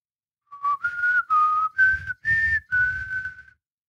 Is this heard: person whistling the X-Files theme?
yes